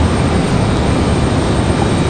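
A Republic Airways jet arriving from New York JFK at Raleigh-Durham airport gives a steady, broad engine rumble at moderate distance, heard alone with no voices.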